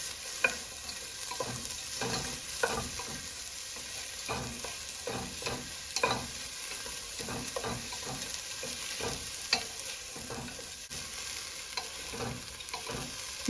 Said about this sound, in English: It's still sizzling.